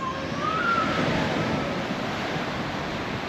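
Sea waves wash onto Dawlish beach in autumn, a steady broadband surf roar with wind across the microphone and no pauses.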